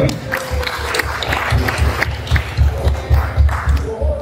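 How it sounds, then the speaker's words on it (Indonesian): A group claps hands at a first aid training session: dense, fairly loud rounds of applause from many people close by, sustained throughout without pause. "Tepuk tangan dulu."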